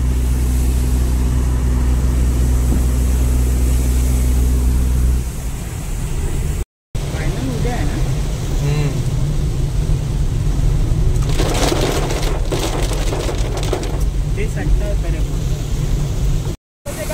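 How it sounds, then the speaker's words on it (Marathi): A rough, stormy sea on the Konkan coast at Ratnagiri churns under heavy rain and wind, a loud continuous roar with crashing surges and brief breaks, while people talk over it. "समुद्र बघा किती खवळ आहे."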